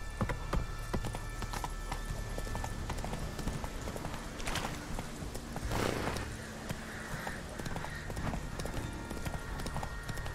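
Geralt's horse Roach gallops in The Witcher 3, hooves pounding in a steady, close rhythm with game ambience beneath, no talking over it.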